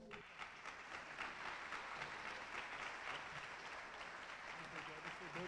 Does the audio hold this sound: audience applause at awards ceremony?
yes